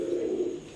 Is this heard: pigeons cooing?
yes